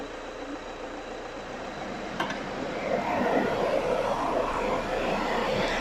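A cooling fan runs at medium speed beside a car on a dyno during a palm biodiesel constant-speed road test, a steady broadband whoosh that swells louder after a few seconds and holds.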